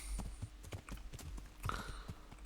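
Horse hooves clip-clop at an uneven trot in the medieval game Kingdom Come: Deliverance, a series of fairly quiet close hoof strikes with faint background ambience.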